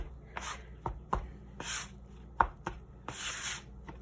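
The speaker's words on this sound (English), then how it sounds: "I've learned you could just chop the dough just to kind of disperse the liquid and the flour" Bench scraper chopping through puff pastry dough on a work surface, a series of separate sharp knocks and scraping chops at an uneven pace, close and clear with no talking.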